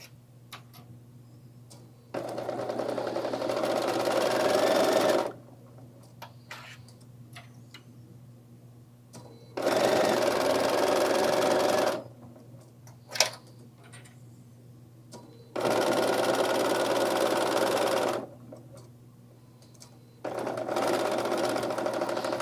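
Sewing machine stitching a tote bag, four bursts of rapid mechanical whirring, each a few seconds long and separated by quiet pauses, with a single sharp click near the middle.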